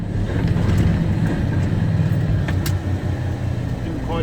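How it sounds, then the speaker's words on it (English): An 18-speed truck's engine rumbles steadily and loudly, pulling under acceleration while the driver works through a gear change. "Didn't quite catch on that gear, so I gave it a bit of acceleration and it went in."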